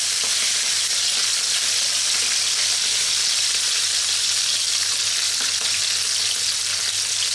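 Pork liver sizzles steadily in a hot pan, a constant bright crackle and hiss that runs on without pause and without talk.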